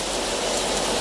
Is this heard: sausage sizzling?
no